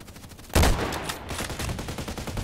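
Gunfire hits near the player in a shooter game tied to an HK417 task, opening with one sharp loud crack followed by a rapid ragged string of shots that keeps going.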